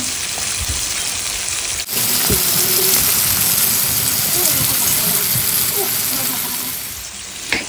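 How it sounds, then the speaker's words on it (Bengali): Loud, dense sizzling of shol (snakehead) fish frying in hot oil, a continuous crackling hiss close up with a brief dip near the start. "এই তো ভাজি হচ্ছে এখন"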